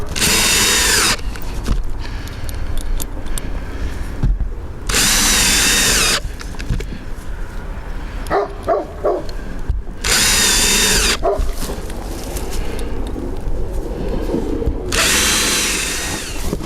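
A cordless drill drives screws into siding on an inn under repair, sounding in four loud whirring bursts of a second or so each, separated by quieter gaps where a dog barks nearby.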